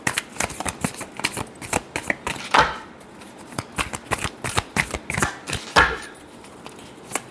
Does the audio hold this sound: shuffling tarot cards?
yes